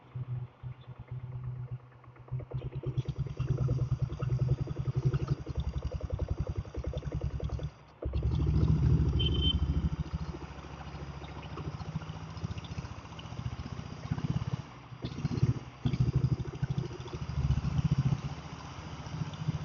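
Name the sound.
diesel Bullet motorcycle being kick-started and running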